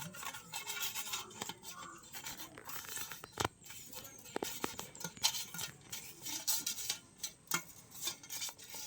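Hilsa fish heads being rubbed by hand with salt and turmeric in a bowl, with soft irregular wet squishing and scraping plus occasional sharp clicks against the dish, close and fairly quiet with no talking.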